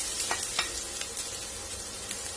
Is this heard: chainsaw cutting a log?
no